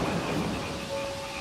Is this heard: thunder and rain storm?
yes